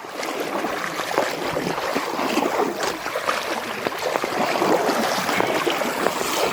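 Someone wades knee-deep across the chilly Red Creek in an upper alpine meadow in winter, churning the water into a continuous broadband splashing and sloshing that rises slightly in loudness toward the end, close by.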